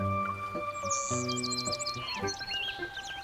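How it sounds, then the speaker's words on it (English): Bright, high chirps and tweets flutter over a steady synthetic hum, a cluster of small bird calls overlapping in quick bursts in the video game Love and Deepspace. "The other birds gather around it. They chirp and chatter."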